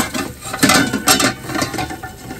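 A metal lid set onto a pot of chicken adobo, heard close as a couple of distinct clanks and rattles in quick succession, with no talking.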